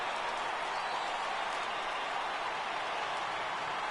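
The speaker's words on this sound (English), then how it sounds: "Crowd gets up for the 3-2." A baseball stadium crowd in MLB The Show 18 roars in a steady, dense wash of cheering that holds evenly throughout, with no voices standing out.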